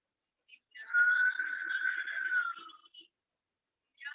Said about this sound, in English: नासिका से श्वास लेंगे और मुंह से सीटी बजाते हुए श्वास छोड़ेंगे